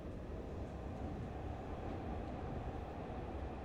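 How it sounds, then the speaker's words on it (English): Steady broadband rumble of a passing train, continuous and even with no distinct clacks, moderately quiet and heard alone without talk. "We have train noises."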